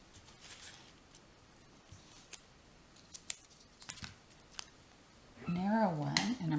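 Several crisp snips of scissors cutting card paper while making a pocket card, spaced out and fairly close, followed by a person starting to talk near the end.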